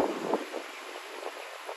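Steady, strong wind roars across the microphone in broad, blustery rushes during an uphill ride, with no other sounds standing out.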